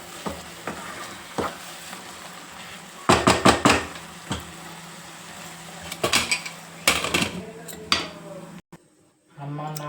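A spoon stirs tomato and fenugreek curry with coriander powder in a pan, scraping and clanking against the metal in short bursts over a soft sizzle, with a voice speaking in between.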